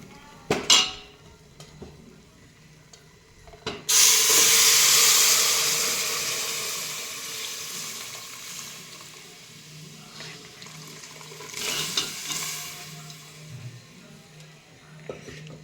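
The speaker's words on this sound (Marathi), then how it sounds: "आता आपण यामध्ये मटण टाकून घेऊया." Mutton goes into a pan of fried spices, setting off a loud hiss of sizzling that slowly fades, with knocks and clatter from the pan and utensil before and after.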